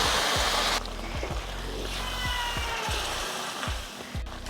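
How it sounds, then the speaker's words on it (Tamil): Boiled chickpeas poured together with their salted cooking water into a masala for Tamil kara kulambu, giving a steady close watery pour and splash with small bumps and trickles throughout. "கொண்டக்கடலை வேக வச்ச தண்ணியோடையே சேர்த்துக்கணும்."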